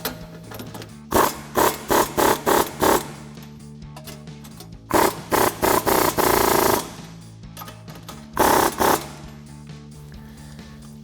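A 24mm socket on a power tool bursts in short rapid runs, tightening two nuts on a 1994-2004 Mustang Pedders coil-over, three clusters of loud buzzing pulses separated by quiet gaps.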